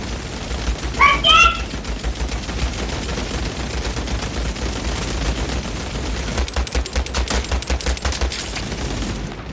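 Rapid bursts of gunfire ring out in a World War 2 video game, with a quick string of shots near the start and a dense volley of repeated cracks toward the end, over a steady low rumble.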